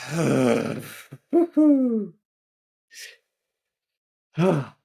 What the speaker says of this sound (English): Deep inhale. And then exhale through the mouth.